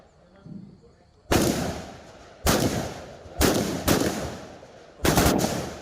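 Gunshots at a police-hosted shooting competition for journalists, five sharp loud reports spaced about a second apart, each with a short decaying tail over quiet outdoor background.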